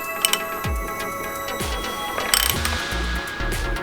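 Clicking ratchet as the crank pulley of a VW 2.0T TSI engine is turned slowly by hand during a rebuild; a few close, uneven bursts of clicks over faint background hum, with no talking.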